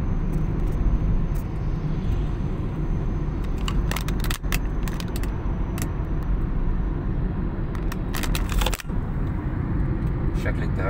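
A passenger airplane approaches from a distance near Cairo airport, its steady roar blending with loud, continuous road traffic and passing cars along a busy street.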